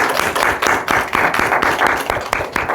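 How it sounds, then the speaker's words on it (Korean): A church congregation applauds, a close, fairly loud wash of many hands clapping with rhythmic surges, sustained for a few seconds with no voices over it. "하나님께 영광의 박수 올려드립시다."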